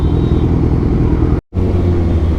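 Kawasaki Ninja 1000 with an Austin Racing full exhaust riding through city traffic, a loud continuous engine roar that drops out briefly before resuming at full strength, with no talking.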